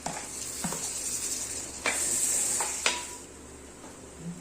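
Onions and tomatoes sautéing in a pan for crab masala: a soft, steady frying hiss broken by a few sharp scrapes and stirring knocks of a utensil against the pan, with no talking.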